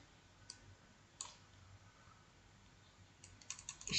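A computer mouse gives a few sparse, quiet clicks while fields are selected in InDesign, ending in a quick cluster of clicks over a low hiss, with no talking.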